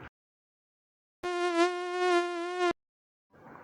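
A steady, high-pitched whine of a mosquito buzzing for about a second and a half, close and fairly loud, between stretches of quiet.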